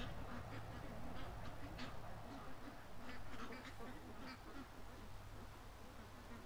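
Ducks in a backyard quack repeatedly in scattered bursts, fairly faint and distant, over a steady outdoor noise bed with a low hum throughout.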